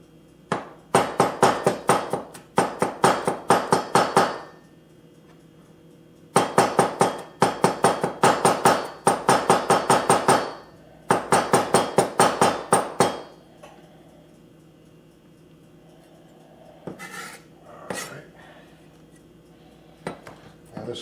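Garlic cloves prepared on a cutting board for beef and broccoli: a knife knocks against the board in fast, even runs of hits, three long bursts separated by pauses, then a few scattered single knocks, close and crisp.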